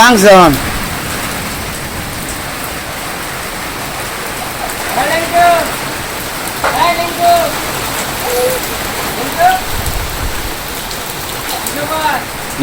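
Steady night rain falls on a Bangladeshi village at the first rain of the year, a dense even patter and hiss on surfaces, with faint distant voices and occasional soft sounds underneath.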